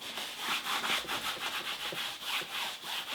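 Oil paint being rubbed thinly onto canvas while painting a sky, a steady scratchy brushing texture in repeated short strokes, close and fairly quiet, with no talking.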